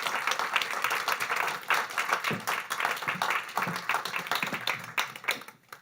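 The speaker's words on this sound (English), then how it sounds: "Give her the biggest round of applause, please." A conference audience claps for a colleague's retirement, a fairly quiet but steady patter of many hands lasting several seconds before fading out at the end.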